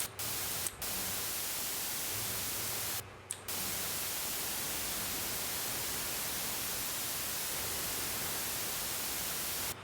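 Steady broadband white noise played through mixing software, a loud continuous hiss filling the whole clip with two brief dropouts near the start and no talk.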